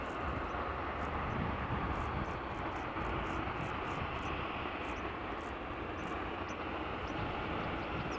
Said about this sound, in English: And a little Embraer shortcutting.